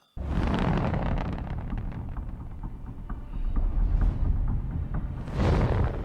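Loud, continuous rumbling explosions in a TV space battle episode of The Expanse, with booming surges that swell and fade over several seconds, heavy and dense throughout.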